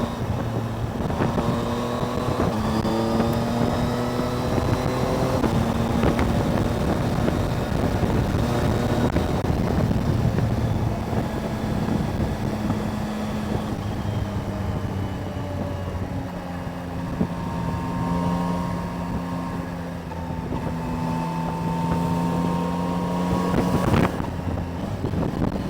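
A Yamaha Tracer motorcycle is ridden on a road outside the city, its engine droning steadily with rising and falling pitch under constant wind buffeting on the microphone.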